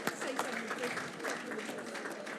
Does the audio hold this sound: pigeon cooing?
no